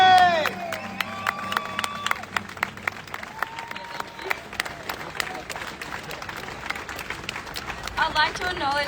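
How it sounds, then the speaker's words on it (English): A crowd at an outdoor Free Palestine rally applauds and cheers as a speaker takes the stage, steady clapping with whoops and shouts under a voice on the public address. "give Janine a huge round of applause and a welcome"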